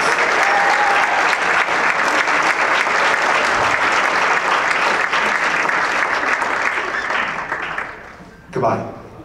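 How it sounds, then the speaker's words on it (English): A high school jazz band concert audience applauds loudly and continuously for the senior class, the clapping fading out near the end. "I'll put a great round of applause for our senior class."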